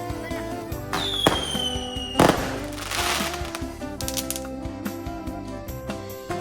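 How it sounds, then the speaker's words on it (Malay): Fireworks crackle and fizz nearby during Hari Raya celebrations, with a sharp bang and a rising whistle over a steady background rumble, sporadic pops continuing throughout. "Bukan mercun tu bunga api"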